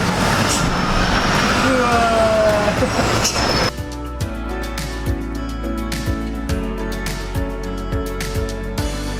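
Bus terminal at Tanjung Pura, Karawang, with steady engine rumble and traffic noise throughout, a louder busy stretch at first, then a lower idling drone broken by repeated short clanks and knocks.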